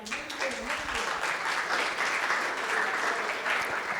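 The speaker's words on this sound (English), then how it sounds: "We applaud that." Sustained audience applause at a community outreach conference session, dense steady clapping filling the room for the full four seconds with no voice over it.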